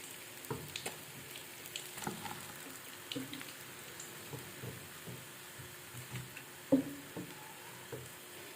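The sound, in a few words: boneless fish frying in oil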